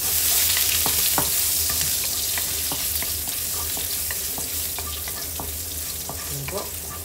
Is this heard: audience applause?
no